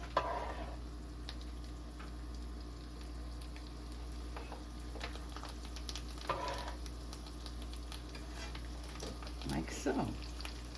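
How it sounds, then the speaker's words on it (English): Chickpea patties frying in oil in a pan give a steady, low sizzle that runs the whole time, with occasional clicks and light knocks of handling nearby and no talking. "Now I'm going to let these fry 3 minutes on each side"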